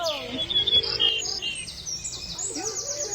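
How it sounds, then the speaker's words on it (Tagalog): Close, bright bird chirps and short whistled calls repeat rapidly while the bird is being fed, with a soft background hum underneath. "I'm going to feed the bird."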